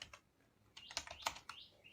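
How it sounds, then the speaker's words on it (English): Keys clatter on a computer keyboard in quick, uneven bursts while a letter is typed in a word processor, quiet and close, with no voices. "you can start typing"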